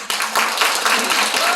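At a live broadcast taping with an audience, a brief, loud wash of clapping sounds out close and dense, lasting only a moment.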